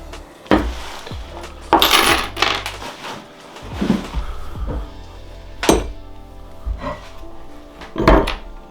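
M16 bolts for mounting a Front Runner Easy Out awning are handled and dropped, giving scattered close metallic clinks, thunks and rattles at irregular intervals.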